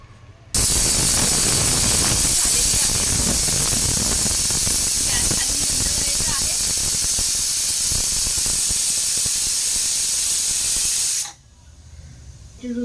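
A pressure cooker cooking rice for a vegetable pulao lets out a loud, steady steam-whistle hiss that starts abruptly, holds for about ten seconds, then cuts off to quiet.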